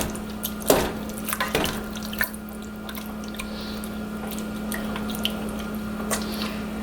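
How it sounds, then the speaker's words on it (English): Whole tomatoes are mushed in a pot for chili, giving a few wet squishing and clacking strokes early on, then scattered soft drips and scrapes over a low steady hum; no talking. "Yeah, see, we're just sort of like mushing them up a little bit"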